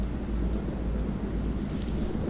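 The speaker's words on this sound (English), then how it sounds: "Find out how long the storm is gonna last." A thunderstorm in the video game Man of Medan rumbles low and continuous with heavy rain and wind, a dense steady roar without distinct claps.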